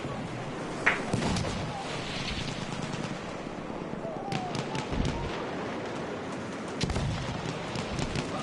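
Video game battle audio of grenade explosions mixed with bursts of gunfire, dense and continuous, with sharper blasts standing out, under a commentator's voice.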